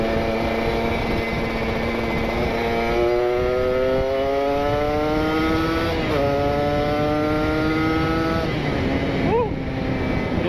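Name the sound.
Kawasaki Ninja RR motorcycle with R9 carbon exhaust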